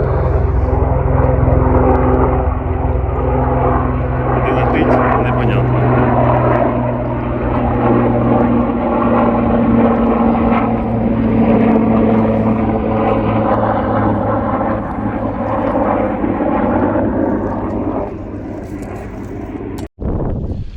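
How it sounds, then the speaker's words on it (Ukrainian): A loud military helicopter drones continuously and close overhead, a steady rotor roar that holds strong before easing slightly near the end. "І летить воєнний гелікоптер."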